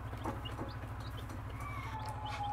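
A mother hen with her newly hatched baby chicks makes soft, low clucks in a steady rhythm while thin peeping chirps come through faintly and close by, with no talk.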